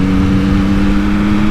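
A Yamaha MT-09 motorcycle engine revving, a loud, steady droning hum with a strong sustained tone and no voices.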